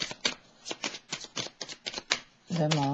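Kipper oracle cards are shuffled in a quick series of crisp riffling bursts close to the microphone, ending as a person starts talking.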